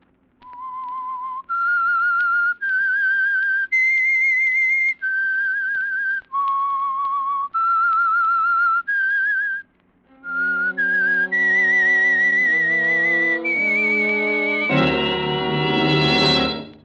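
Whistled theme signal of the 1946 radio program The Whistler, a lone eerie melody of sustained pure notes stepping up and down, then joined by an orchestral swell with a final loud chord.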